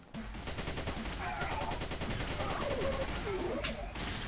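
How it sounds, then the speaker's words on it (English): Machine gun fire in the video game Xonotic, a steady fast rattle of shots running almost continuously and fairly quietly, with game effects and tones mixed over it. "I'm gonna try and machine gun some motherfuckers like Rambo."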